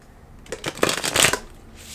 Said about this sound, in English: I'm just getting guidance to shuffle this deck really thoroughly